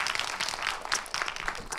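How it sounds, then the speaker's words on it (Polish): Applause of appreciation from an audience at a medical program's 30th anniversary conference, a steady dense patter of many hands clapping throughout, moderately loud and without talk. "To są oklaski uznania."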